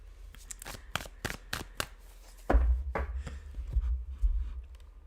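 A deck of tarot cards being shuffled by hand, a string of quick, crisp riffling bursts that turns into a longer, fuller run of rapid flutters and taps, close and alone with no voices.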